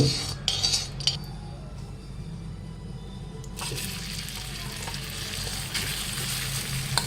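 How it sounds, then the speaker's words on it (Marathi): Steady sizzling of fenugreek frying in ghee in a kadai over low heat, with a few light metal utensil clinks and scrapes near the start; no talking. "मेथीला कमी गॅसवरच भाजायचं आपल्याला"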